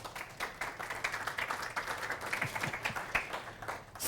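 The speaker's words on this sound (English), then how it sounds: "Give me a round of applause." Scattered applause from listeners at a developer conference talk on progressive web apps, a moderate, fairly thin round of clapping that holds steady without voices.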